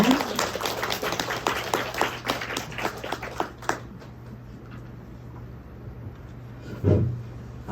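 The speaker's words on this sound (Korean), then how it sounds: "큰 박수로 청해 듣겠습니다." Audience at an academic society conference applauds loudly for about four seconds, the dense clapping then fading into room quiet, with a single thump near the end.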